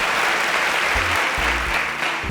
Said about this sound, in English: can we please give a round of applause for Faith?